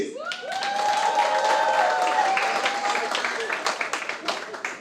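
Convention audience applauding at a LECDA Houston gathering, sustained crowd clapping throughout with a voice and tonal sounds over it.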